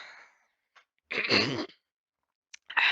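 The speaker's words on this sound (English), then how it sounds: "I really have to clear my throat tonight" A single forceful throat-clearing burst, short and close, after a faint breathy sound, followed by a brief quiet and another short vocal noise.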